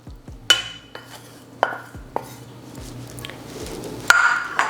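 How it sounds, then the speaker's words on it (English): Cooked spinach is scraped and moved into a large bowl, with several sharp clinks of a utensil against cookware spaced irregularly, plus soft stirring and scraping between them in a quiet kitchen. "I am going to transfer my spinach into a large bowl."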